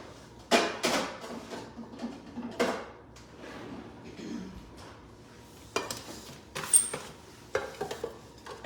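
Small baking pans clatter in a kitchen with a few sharp metallic knocks and scrapes, like a drawer opening and pans being set down, spread out with quieter gaps between.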